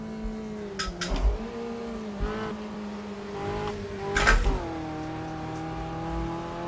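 A race car in the Automobilista 2 sim at Brands Hatch, its engine droning steadily through gear changes and rising and falling revs, with brief tyre noise through corners and no voices.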